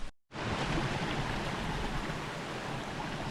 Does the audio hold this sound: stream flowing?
yes